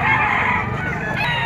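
A young stag rooster crows at a livestock auction market in Padre Garcia, Batangas, one loud, close, drawn-out call over a constant background hum of other fowl.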